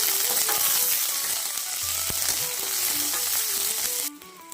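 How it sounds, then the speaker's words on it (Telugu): Cumin seeds frying in a pan, a loud dense crackling sizzle held steadily close up that drops away abruptly near the end. "జీలకర్ర కూడా కొంచెం వేస్తున్నానండి. అది కొంచెం వేగిన తర్వాత"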